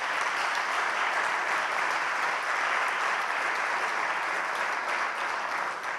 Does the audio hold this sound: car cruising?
no